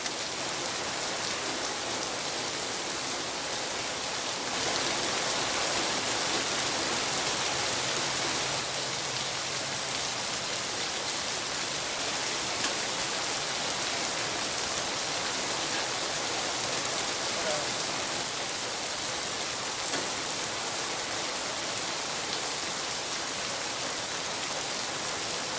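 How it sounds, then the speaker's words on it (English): Steady rain pours down in a dense, even hiss, unbroken and close for the whole stretch with only slight shifts in intensity. "I'm going to take advantage of the rain coming down and enjoy the rain"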